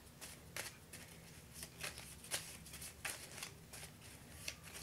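Tarot cards being shuffled and drawn by hand, giving soft, quiet riffling flicks and repeated short card snaps at an uneven rhythm over faint room hiss, with no talking.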